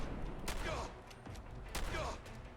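.410 lever-action shotgun firing in Fallout 4, two sharp blasts about a second apart, each with a short ringing tail, over a low game ambience and occasional talk.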